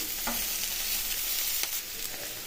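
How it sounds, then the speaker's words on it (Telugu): Ivy gourd curry roasting in a pan sizzles steadily with a bright hiss, while occasional soft scrapes of stirring come through close by. "మధ్య మధ్యలో కర్రీ మాడకుండా ఇలా కలుపుతూ ఉండాలి."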